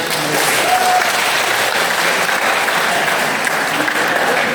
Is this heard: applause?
yes